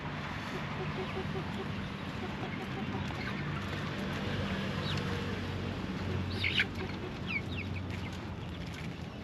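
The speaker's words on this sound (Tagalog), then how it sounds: "Lakas kumain yung mga manok ni Kapengyo." Backyard chickens clucking as they eat a feed of rice and corn, scattered soft clucks and a few sharper calls under a steady outdoor hiss, fairly close.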